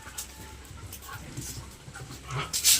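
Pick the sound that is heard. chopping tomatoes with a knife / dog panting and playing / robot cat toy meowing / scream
dog panting and playing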